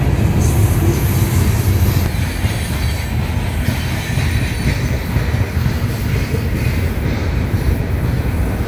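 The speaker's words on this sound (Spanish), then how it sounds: "el carguero que va al sur, saliendo de Saltillo, Coahuila, en medio del primero y segundo túnel" A southbound freight train passes close by between two tunnels outside Saltillo, Coahuila, making a loud, unbroken roar of rolling wheels and rail clatter with a faint high squeal, and nobody speaking.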